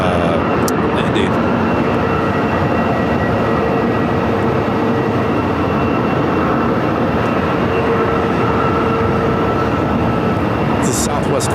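Southwest Boeing 737-800 arriving from Denver and landing at Phoenix Sky Harbor, a long, steady, loud jet roar with a faint whine throughout, no talking.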